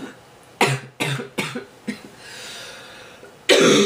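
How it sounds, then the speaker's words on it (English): A sick woman coughs in several sharp, close bursts, with raspy breathing and throat sounds in the pauses between. "I love coughing all the time."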